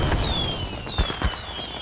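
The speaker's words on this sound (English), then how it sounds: "The fireworks are shown to blow up in his mouth" Cartoon fireworks go off in a character's mouth, giving a few short muffled pops and bangs over a steady crackling bed, with thin whistling tones drifting through the mix.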